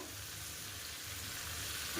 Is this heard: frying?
yes